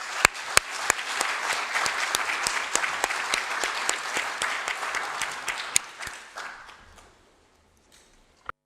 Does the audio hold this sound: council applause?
yes